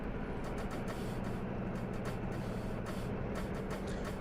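Hydraulic whirring and hissing from an F6F Hellcat in Microsoft Flight Simulator 2024, a steady dense mechanical drone with no pauses, loud and continuous across the whole stretch.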